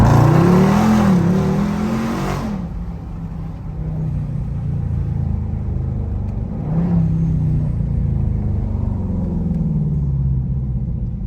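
Dodge Durango SRT 392, a 2021 SUV with a widebody kit and mods, revs hard at close range at first, then settles into a deep steady rumble and swells again midway through a neighborhood drive, no talking.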